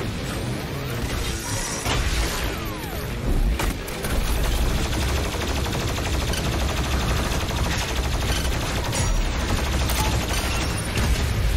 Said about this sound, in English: that's plasma explosion. I haven't seen that yet.